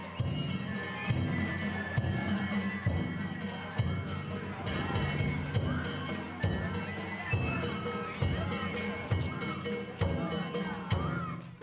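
A raucous crowd fills the street at the Kishiwada Danjiri festival, loud dense chatter and shouting with rhythmic thumping and drum beats throughout, under a narrator's voice.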